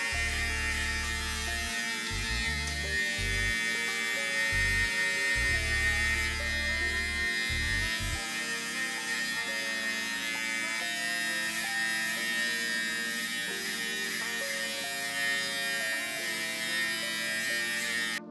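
A Babyliss Black FX hair clipper buzzes steadily at close range while tidying a hairline for a sharp shape-up, its hum shifting in pitch as the blade moves against hair.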